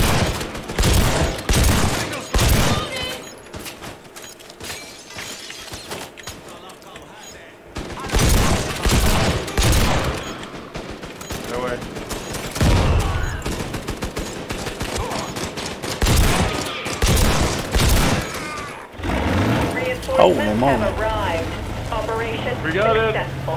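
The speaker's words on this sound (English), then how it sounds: "Oh, grenade. Another grenade." Grenade explosions and heavy gunfire in a video game, coming as repeated loud bursts of rapid shots and booms separated by brief lulls, with a voice talking over parts of the action.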